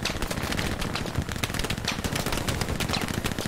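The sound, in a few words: shotgun fired close by in video game Hell Let Loose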